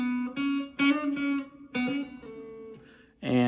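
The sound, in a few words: guitar playing second half of a solo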